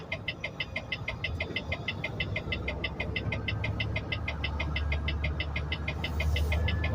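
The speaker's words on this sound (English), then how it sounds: "I'm down here right now with a 53-foot trailer on, maneuvering through this traffic right now." Heavy semi truck hauling a 53-foot trailer through dense New York City traffic in Brooklyn, a steady low engine rumble with a regular ticking pulse above it, close and continuous, swelling slightly louder near the end.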